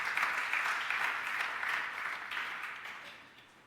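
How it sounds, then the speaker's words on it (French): A church congregation applauding to acclaim the Lord, a steady wash of many hands clapping that holds throughout and slowly fades toward the end, with no one talking over it. "Est-ce que quelqu'un peut acclamer le Seigneur?"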